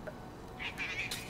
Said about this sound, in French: Ça devait être un chat. C'était un chat.